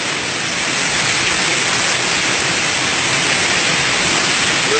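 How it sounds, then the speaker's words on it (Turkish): Loud, steady rush of a stream flowing close by, a dense continuous hiss with no voices. "Bu dereler coşuyor."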